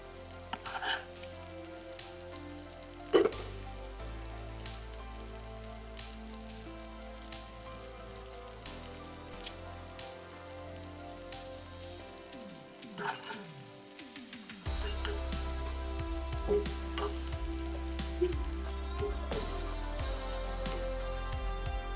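Pointed gourd (kakrol) frying in a small amount of oil in a frying pan, a continuous soft sizzle and crackle with occasional clinks, growing louder in the final stretch.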